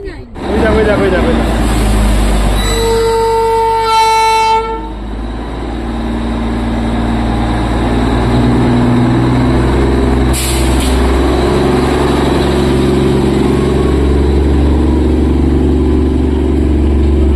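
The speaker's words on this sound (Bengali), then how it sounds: "বাতাসিয়া লুপ ছাড়লো ডিজেল লোকোমোটিভ" A Darjeeling Himalayan Railway diesel locomotive pulls away from Batasia Loop, sounding a loud, sustained horn blast before its deep engine rumble builds and holds steady nearby.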